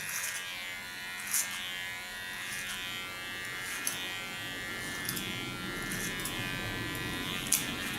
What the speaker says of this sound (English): Put my blade to the back, start behind the ear, use my clipper as a comb.